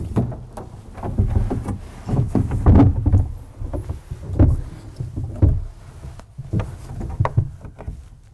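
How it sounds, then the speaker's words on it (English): Person sliding into a SleepPod on wet, muddy ground and pulling it over the top, a series of close rustling, swishing fabric sounds and muffled thumps in uneven bursts. "Slide yourself in. Pull it over the top."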